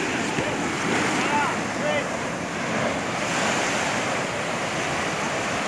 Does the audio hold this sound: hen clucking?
no